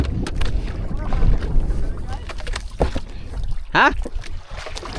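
A small motorboat engine starts and sputters, running unevenly and threatening to stall, near open water with wind buffeting the microphone and a person speaking briefly.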